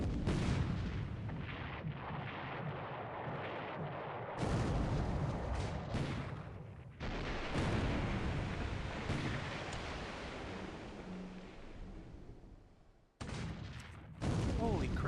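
Battleship Prince of Wales firing its big guns in a Pacific War naval game: heavy, booming salvos roll out in long sustained blasts that decay and restart abruptly, loud and close.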